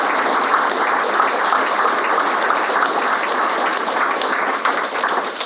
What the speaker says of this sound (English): let's give one more round of applause to the crew of Loon,